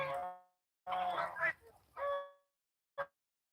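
A large Muscovy duck drake gives several short, hoarse, honking calls close by, separated by pauses, in a poultry yard.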